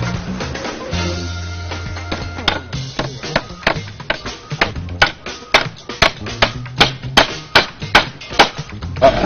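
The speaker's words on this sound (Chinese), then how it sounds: "锤子也能锤得进去。" Hammer blows drive nails, using a hammer with a newly invented handle: a steady run of sharp, loud strikes that quicken and grow stronger toward the end, with no talking.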